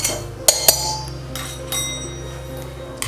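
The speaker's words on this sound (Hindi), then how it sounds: "गैस चालू करेंगे।" A kitchen gas stove being switched on: two sharp clicks of the igniter close together, followed by a low steady hum, with a few faint ticks afterward.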